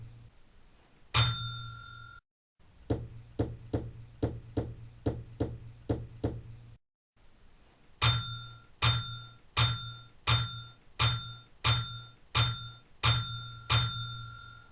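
Signal box bell rings a nine-beat code while a train without a lit tail lamp is sent on: one opening strike, then a run of regular metallic dings, a pause, and a second run, each ring clear and decaying, with no talk.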